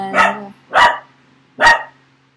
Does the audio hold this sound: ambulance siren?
no